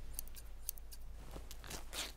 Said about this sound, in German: Und das hört sich doch an wie eine Schere.